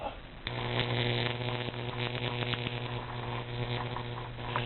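High-voltage Jacob's ladder arc burning through a clump of steel wool, giving a steady loud electrical buzz with crackling, sputtering bursts throughout.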